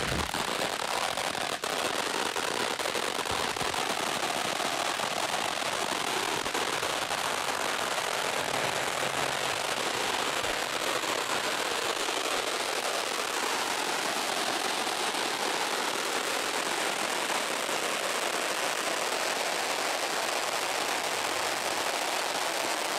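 A consumer firework set off outdoors for the Fourth of July, giving a sustained loud crackling and hissing burst that sounds like heavy rain, continuous and close for over twenty seconds.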